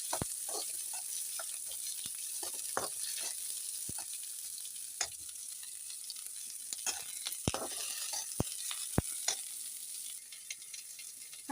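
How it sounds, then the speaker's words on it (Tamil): Spicy tomato pachadi ingredients sautéing in a pan, a steady close sizzle and frying hiss with scattered sharp pops and crackles throughout, no voices. "இது கொஞ்ச நேரம் வதங்கணும்."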